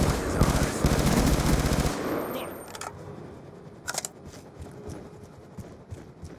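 Automatic gunfire rattles in a Call of Duty Black Ops 2 multiplayer match, a dense burst that stops abruptly and is followed by a few sharper isolated shots and quieter game sounds.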